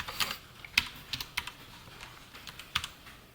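C code is typed on a computer keyboard in quick, uneven bursts of close, crisp key clicks, with no voices.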